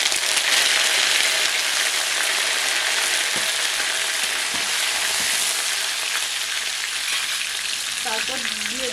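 Cumin, mustard seeds and curry leaves tempering in hot oil in a wok for flattened-rice pulao, a loud steady sizzle and crackle throughout with a few stirring clicks, no talk.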